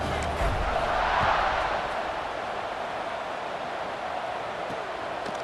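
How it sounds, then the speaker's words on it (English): A stadium crowd at a college football game between the Red Raiders and the Aztecs in EA Sports College Football 26, a steady broad roar of buzzing fans that swells slightly early on, then holds constant and fairly loud throughout. "this crowd is buzzing after that last score"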